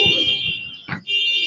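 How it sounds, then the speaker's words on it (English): Two car alarms sound together on a New York City street, a loud steady high-pitched electronic tone that breaks off briefly and resumes, close and dominating. "now both alarms go off"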